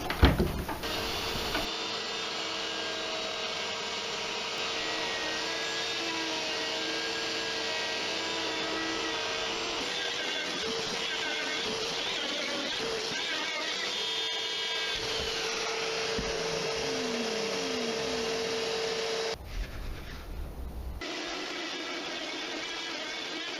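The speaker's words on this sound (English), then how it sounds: "I used a laser cut router guide to cut out the outline for the pockets for each of the vases." A router cuts pockets into reclaimed wood along a laser-cut guide, a loud, continuous high whine with shifting tones as the bit moves through the grain, briefly dropping near the end before resuming.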